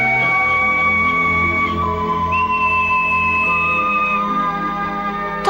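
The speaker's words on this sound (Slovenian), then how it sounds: "Ta piščal." A pipe whistle plays long, sustained, clear tones in a cartoon, one pitch sliding up partway through and holding steady, loud and close with no talk over it.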